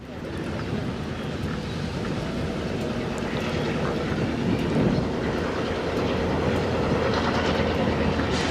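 A freight train, a long manifest working a busy Midwest rail yard, rumbles steadily past at a moderate distance, with a continuous low roar and faint rhythmic clicking of wheels on the rails.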